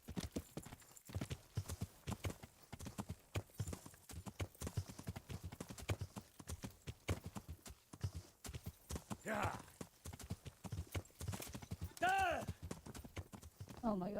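Horse hooves clip-clop in a steady, rapid rhythm throughout a video game ride, with a brief whinny partway through and a voice talking over it.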